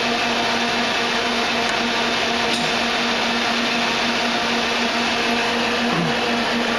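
A centerless grinding machine runs steadily in a workshop, giving a loud, constant whirring drone with a sustained tonal hum, close and without pause, with no talk over it.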